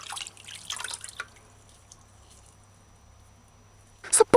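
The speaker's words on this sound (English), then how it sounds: "Use your fingers and work out the sand. Wash spirulina clean." Spirulina is rinsed by hand in water, with soft dripping and sloshing splashes at the start, quiet in the middle, then a short burst of splashing at the end.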